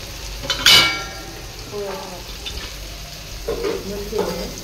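Red chilies and red chili powder tossed into a hot pan of slightly burnt onion for a whole masoor dish: a sharp clatter, then soft sizzling and stirring scrapes, with a voice talking between them.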